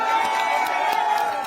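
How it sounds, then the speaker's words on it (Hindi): Audience applause and cheering erupt at a shayari poetry gathering, a brief, loud burst of crowd clapping and shouts with a steady tone underneath. "आपकी तालियों का शोर पूरी दिल्ली में जाना चाहिए।"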